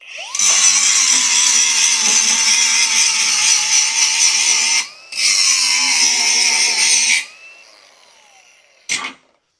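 A DCA 20V 4.5-inch cordless angle grinder grinds into thick steel, a loud sustained whine in two long passes broken by a short pause, then spinning down, with a brief clunk near the end.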